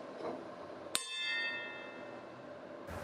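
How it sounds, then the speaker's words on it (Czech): A circular saw blade, tapped once with a finger while hanging on a finger, rings like a gong: a sharp single strike followed by a sustained, clear metallic tone that slowly fades over about two seconds. "Stačí kotouč nasunout na prst a klepnout. Pokud bude kotouč rezonovat jako gong, dejte od něj ruce pryč."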